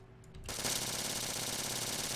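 A suppressed M7 submachine gun in the Halo mod OPTRE fires a sustained rapid burst, dense and continuous after a brief quiet start, loud and alone.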